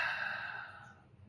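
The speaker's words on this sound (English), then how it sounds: "Take a deep breath." A single long, slow exhale of a deep breath, close and soft, fading out over about a second with no talking.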